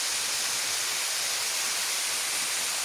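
Selosari waterfall in Kare, Madiun, East Java gives a loud, unbroken roar of falling water, a dense steady rush with no voices.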